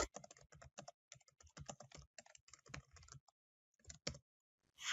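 Fingers type a SQL command on a computer keyboard, a close, brisk run of key clicks in uneven bursts with short pauses, ending in a brief rush of noise.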